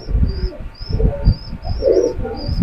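Pigeons cooing in a home pigeon loft in Hazaribagh, Dhaka, with repeated low, soft coos overlapping steadily and close by, along with a few faint higher chirps.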